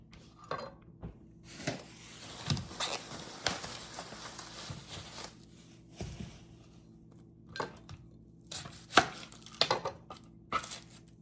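A knife chops onions on a board for chicken soup. The cuts come in quick irregular bursts of crisp taps, fairly close and moderately soft, with pauses between the runs.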